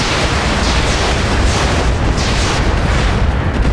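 Weapons firing in the video game Roguepoint make a dense, loud, continuous barrage of booming blasts that merge into one heavy roar.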